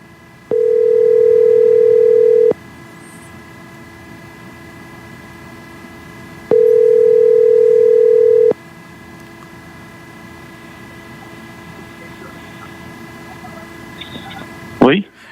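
A telephone line ringing after a number is redialed, giving two long, steady electronic tones about two seconds each, separated by a hum-filled pause, with a brief click at the end.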